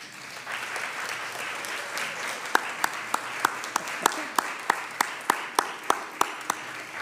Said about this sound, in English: could you please stand up and we'll give you a round of applause